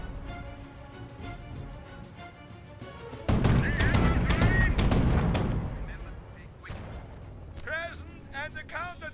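A Company of Heroes battle erupts as an anti-tank gun position is overrun, with a dense burst of heavy gunfire and booming blasts in the middle, under scattered game voices and radio chatter.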